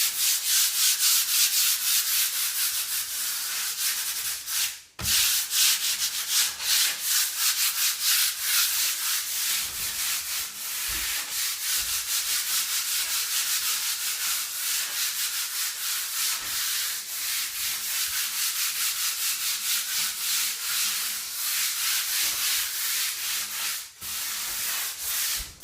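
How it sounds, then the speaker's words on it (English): A wooden interior door gets a light all-over sanding by hand with 120-grit paper, a continuous close scratchy rubbing with quick back-and-forth strokes and two brief pauses, no talking. "We're just giving the whole surface just a light sanding."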